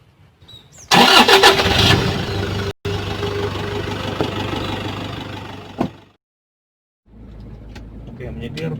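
A Suzuki Alto car engine cranks and catches near the start, then idles loudly and steadily for several seconds before cutting off, followed by a pause and faint later noise.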